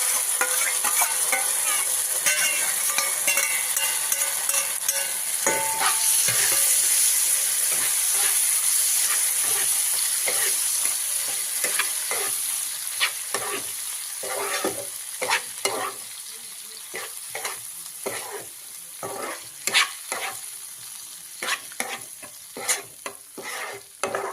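Tomato relish mixture being stirred in hot oil, with a steady loud sizzle and hiss of frying and repeated scraping strokes of the spoon through the pan, heard alone without talk.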